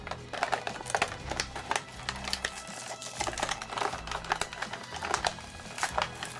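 Hasbro Beyblade Burst Surge Draciel packaging being opened, with rapid close crinkling, tearing and clicking of cardboard and plastic in irregular bursts, quiet and up close.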